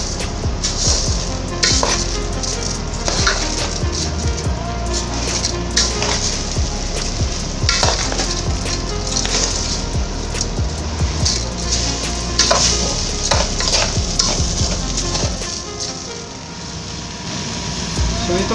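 Rice and sautéed shrimp are stirred together in a hot pan, giving a constant sizzle broken by repeated scraping and clinking strokes, with voices heard faintly at times.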